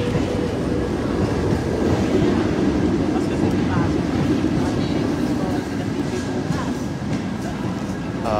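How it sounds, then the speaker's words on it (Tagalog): A Paris train pulls in, a loud continuous rumble of wheels on rail with faint squeals near the end, heard up close on a crowded platform under steady background noise. "Oh, ito na yung train namin."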